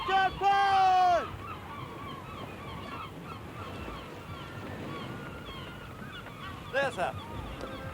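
Gulls call at sea with a loud, wailing cry near the start and another brief cry later, over a steady wash of wind and waves; someone speaks briefly.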